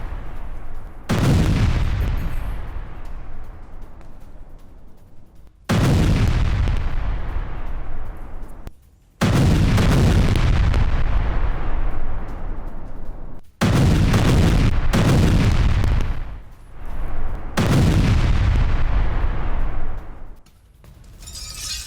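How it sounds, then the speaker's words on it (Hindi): Heavy explosions from Israeli strikes on the Dahiyeh district of Beirut boom out one after another, five or six loud blasts, each with a long rumbling decay before the next. "बेरूत के दाहिया में भीषण हमले हुए हैं।"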